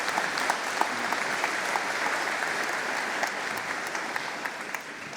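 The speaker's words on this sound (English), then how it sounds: "Let's give them a round of applause." Sustained applause from a large audience at a 48th commencement ceremony, an even wash of many hands clapping at a moderate distance, with no talking over it.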